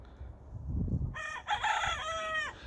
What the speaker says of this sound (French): Le coq, il chante 2-3 fois et puis c'est bon, mais lui, non.